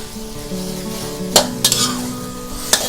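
Garlic pork stir-fries in a pan with a little liquid, a steady low sizzle under a hum, punctuated by a few sharp metallic clinks and scrapes of a utensil against the pan.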